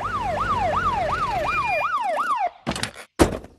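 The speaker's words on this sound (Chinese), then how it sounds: "快听，警察来了。" A cartoon police car siren wails in a rapid rising-and-falling pattern, loud and close, then cuts off and is followed by a few brief thuds and clatters.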